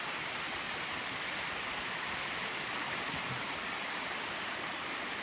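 Continuous hiss and roar of falling water at a tropical waterfall in Penang, steady and even throughout, with no voices.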